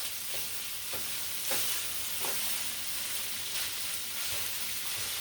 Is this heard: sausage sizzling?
yes